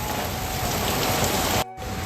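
Heavy rain pours down in a dense, steady hiss that drums continuously on surfaces, close and loud, briefly cutting out near the end.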